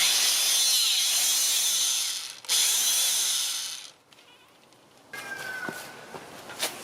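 An Anbull 900 watt rebar cutter shears through a 1/2 inch grade 8 bolt. A loud, steady motor whine runs with a brief dip partway, then cuts off and gives way to quieter rattling and a clack.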